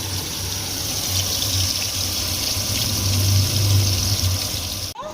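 Bhetki fish pieces fry in hot oil, giving a steady, rushing hiss that keeps an even level throughout, with a low hum underneath and a brief clunk at the very end.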